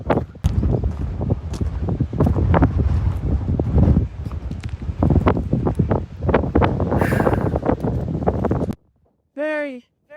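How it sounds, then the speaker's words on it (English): Strong wind buffets the microphone outdoors on a rainy desert hiking trail, loud gusty rumbling throughout, followed by a short quiet gap and a brief voice at the end. "It is windy today."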